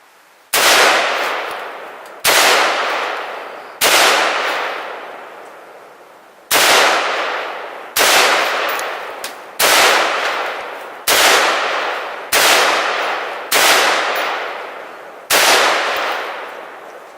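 Ten loud 5.56 green tip NATO rifle rounds strike a BallistiCore composite bulletproof barrier panel at an outdoor range. Each sharp crack is followed by a long decaying echo, with the shots spaced roughly one to two seconds apart.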